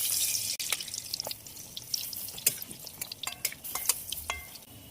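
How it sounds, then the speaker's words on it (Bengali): Lentil fritters fry in oil in a karahi, with scattered crackles, pops and drips over a soft sizzle, close by and fairly quiet, no talking. "বড়াগুলো এই পিঠটা ভাজার জন্য উল্টে দেবো।"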